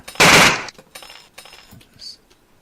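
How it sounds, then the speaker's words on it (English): Gunfire in the video game The Atomy: one loud, close burst of automatic fire, followed by quieter scattered game sounds and brief noises. "Somebody else was firing at me then."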